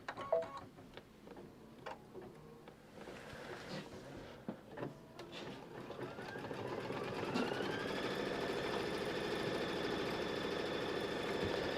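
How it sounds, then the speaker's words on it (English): An embroidery machine stitches a placement outline, its needle mechanism whirring in a steady rising drone that builds and holds loud after a few faint clicks and handling sounds at the start. "Next step is the placement stitch. So let's go ahead and do the placement stitch."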